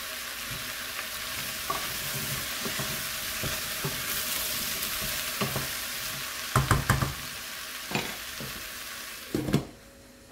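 Vegetables for a light soup sizzle steadily in a pot, with a spoon occasionally stirring and knocking against the side, close up, with a few louder clatters near the end and no voices.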